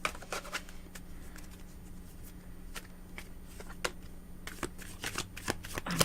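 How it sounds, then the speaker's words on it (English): A deck of cards being shuffled for a psychic reading, with repeated crisp riffles and soft slides close by at low volume, no talk. "I'm shuffling these cards, so I'm always ready if anybody wants a reading"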